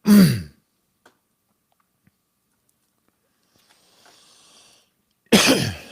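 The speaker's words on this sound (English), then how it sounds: "Stop coughing in the microphone." A person coughs sharply into a microphone, loud and close, with a second burst of coughing or throat clearing about five seconds later after a near-silent gap.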